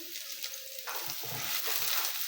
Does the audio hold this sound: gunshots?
no